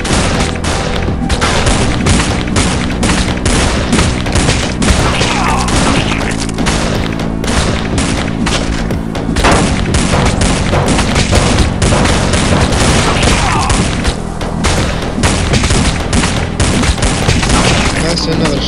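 In the Dead Ahead: Zombie Warfare video game, shotguns fire in a relentless, loud barrage of overlapping blasts and crashing impacts, sustained at full intensity throughout.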